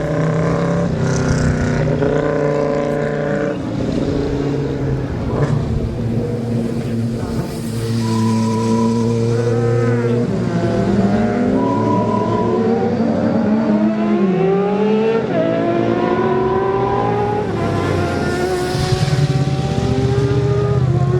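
An Aprilia racing motorcycle screams past during the 2009 Manx Grand Prix Senior Race. Its loud, sustained high-revving engine note sweeps up and down in pitch as the bike passes close by, with several gear changes and no talk.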